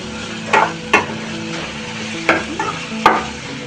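Onions frying in hot oil with a steady sizzle, broken by four sharp stirring scrapes of a spoon against the pan; close and fairly loud, with no voices.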